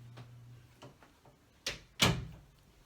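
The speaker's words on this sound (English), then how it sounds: "So I'll close my door here." A door closes indoors at a home crafting desk: soft faint taps and handling sounds, then two sharp knocks, the second a firmer thud as it shuts, with a quiet hum beneath.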